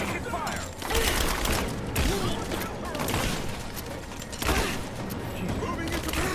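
Gunfire in the video game Rise of the Tomb Raider: repeated sharp shots and bursts in fast succession over a dense background of combat noise, with loud cracks near the one-second and four-and-a-half-second marks.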